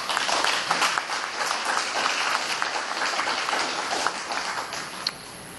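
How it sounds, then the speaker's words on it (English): Audience applause at a diabetes association symposium held at a university, a dense, steady wash of many hands clapping close and loud throughout, fading slightly at the very end. "So let's have another round of applause for Dr."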